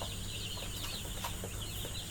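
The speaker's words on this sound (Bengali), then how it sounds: "আমি পানি দেওয়ার সাথে সাথে মুরগিগুলো কিভাবে পানি খেতেছে" Ten-day-old broiler chickens on a rooftop farm cluck and cheep softly in a continuous, overlapping chorus as they drink water, with a steady hum of background noise.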